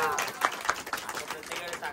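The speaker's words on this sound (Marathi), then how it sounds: "टाळ्या." Guests at a Buddhist wedding clap in a brief, uneven burst of hands, close and lively, mixed with talking voices.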